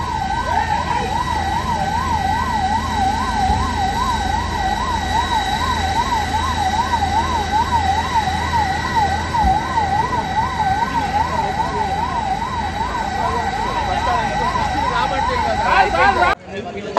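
Fire engines responding to a large industrial fire in Jeedimetla, a loud wailing siren cycling steadily for a long stretch over traffic and crowd murmur, ending with an abrupt clunk.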